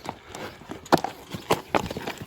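A thick-legged, thick-necked bay horse with a white blaze, about 1.70 m tall and being sold in Özgön, clip-clops at a walk with several distinct, fairly close hoof strikes in an uneven rhythm.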